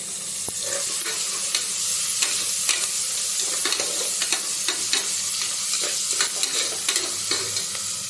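Mint and coriander leaves sautéing in hot oil for tomato pongal, a steady close sizzle and frying hiss with the scrape of a stirring spoon against the pan, with no voices.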